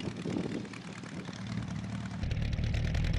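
Vimy biplanes lining up for takeoff, their propeller engines droning steadily under strong wind buffeting, the low rumble swelling louder near the end; no voices.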